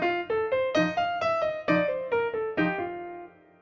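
A swung bebop-style descending line plays on a pitched instrument, about a dozen clear, evenly spaced notes stepping downward, with the last one ringing out and fading; nothing else is heard.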